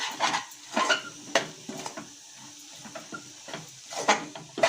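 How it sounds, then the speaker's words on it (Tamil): Ivy gourd kara kulambu masala is stirred in a pan, a spoon scraping and clacking in quick, irregular strokes close up with a light sizzle beneath. "இப்போ இது எல்லாமே நல்லா வந்து கிளறிக்கலாம்"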